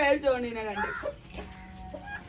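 A chicken clucks close by in quick, harsh bursts, tapering off into quieter clucks.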